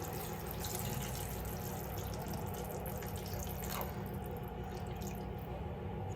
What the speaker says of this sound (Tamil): கிரேவிக்கு தேவையான அளவு தண்ணி ஆட் பண்ணிக்கலாம்.